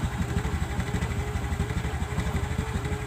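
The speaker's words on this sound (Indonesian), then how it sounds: "kita hidupkan mesin" A Kawasaki ZX motorcycle engine idles steadily just after starting, with a loud, even low-pitched throb and light mechanical clatter, recorded up close during a charging-fault repair.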